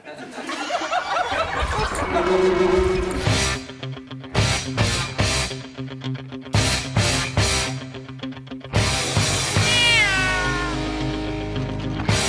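Cats at a long-haired cat show, several close, loud meows and caterwauls in bursts, some drawn-out and rising in pitch, with voices and laughter mixed among them.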